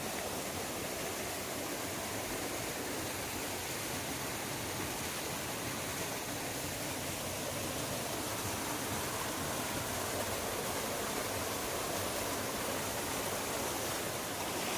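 A waterfall at Chakra Ghati in Ganjam roars as a steady, broad wash of rushing water, constant and unbroken with no voices.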